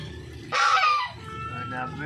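A rooster crows once, loud and close, a single strained call lasting about half a second amid faint background chatter.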